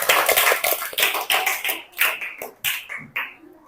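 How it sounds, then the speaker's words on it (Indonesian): Classroom applause, hands clapping in quick bursts that settle into a rhythmic group clap with a steady beat, loud and close. "tepuk tangan"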